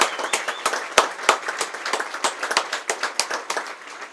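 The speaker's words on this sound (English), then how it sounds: "Let's give him a round of applause for 35 years." Crowd applause at a high school baseball game, a WIAA Division 1 sectional semifinal between Menomonie and SPASH, honoring a retiring announcer and umpire: steady clapping from the stands, fairly close, with a few sharper individual claps standing out.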